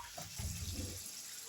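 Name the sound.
pouring a cup of water into frying spice masala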